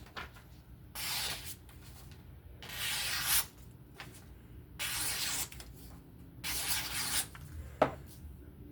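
Freehand sharpening of a Divo Knives Mash V2 knife in 14c steel with a hollow grind: five loud, rasping strokes along the stone, each about a second long, separated by short quiet gaps, with a sharp click near the end.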